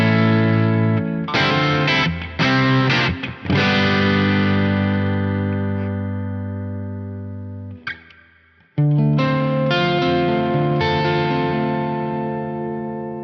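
A handmade Telecaster electric guitar with both pickups active plays heavily distorted chords, several choppy strums followed by long sustained ringing chords, a short pause, then more loud strummed chords.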